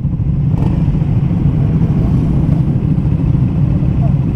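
Triumph Speed 400 motorcycle rides along in a group convoy, a steady low engine drone with wind rumble, close and continuous with no change in pace.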